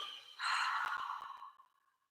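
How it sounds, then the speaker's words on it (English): A single long exhale during a strength and release workout, close and breathy, swelling quickly and then fading out gradually into silence. "Remember to breathe. Exhale."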